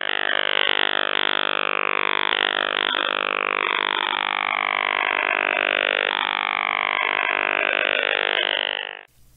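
A Russian over-the-horizon radar signal on shortwave, about 12 kHz wide, with rapid repeating sweeps and a buzzy, chirping texture, steady and loud throughout before cutting off at the end.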